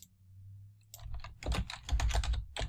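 Keys clack on a computer keyboard in a burst of typing, close and fairly quiet, with a low hum underneath at first.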